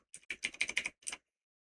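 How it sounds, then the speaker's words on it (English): Rapid bursts of keystrokes on a computer keyboard, a quick run of about eight crisp clicks followed by a short pause and a final pair, close and clear in an otherwise quiet room. "My typing's not so great tonight."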